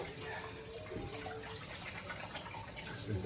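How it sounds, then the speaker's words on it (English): A kitchen tap runs steadily, filling a sink with hot water in a steady, moderately faint gush with no clear breaks. "We've got to fill the sink up as well."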